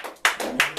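Congregation clapping during a church praise service, three sharp claps spaced apart and close by, with no voices.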